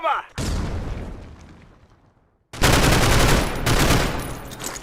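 Frag grenade in a competitive tactical shooter match, a sharp burst followed by a decaying rumble, then a second loud blast with heavy rolling debris and a further boom, no talk in between.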